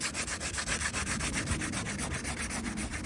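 Hand sanding with 180-grit paper, keying up a fiberglass repair area at home before new glass goes on, a steady scratchy back-and-forth rubbing that continues close and loud throughout with no talking.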